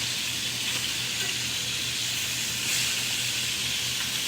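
Chicken pieces for cacciatore brown in a low-sided pan, giving a steady, close, hissing sizzle that holds even throughout with no talking.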